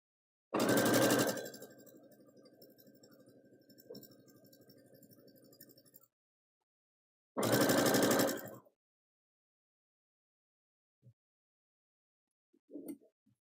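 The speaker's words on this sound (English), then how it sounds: "Chain stitching is awesome." A sewing machine runs a chain stitch in two bursts, a loud rapid whirring start that settles into a steady hum, then a second short loud run, followed by near silence with a couple of faint clicks.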